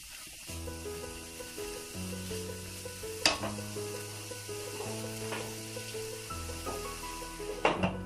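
Cauliflower snack pieces sizzle and fry in a pan while being stirred now and then, with a few sharp scraping clinks of the spoon against the pan over a steady frying hiss; music plays underneath.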